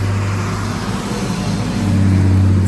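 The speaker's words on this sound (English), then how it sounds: "Sorry about the traffic." Road traffic passing outside a front porch garden, a loud steady engine drone with a low hum that swells slightly toward the end, with no talking.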